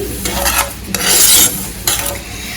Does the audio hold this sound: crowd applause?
no